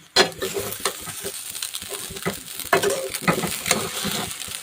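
Kande pohe, flattened rice with onion and a squeeze of lemon, stirred and mixed in a hot pan: close, busy scraping and sizzling strokes of a spoon against the pan, continuing steadily with no talk.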